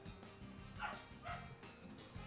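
A puppy barks in short yips and bow-wows during a Pokémon Scarlet and Violet game session, two or three brief moderately loud bursts over a steady low background hum.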